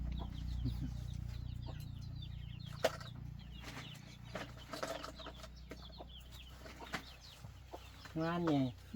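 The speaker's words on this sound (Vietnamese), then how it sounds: "Con gà kìa, gà vịt kìa." Chickens cluck in short scattered bursts on a farm, mixed with rustling and handling noises over a low rumble, with people talking nearby at moderate distance.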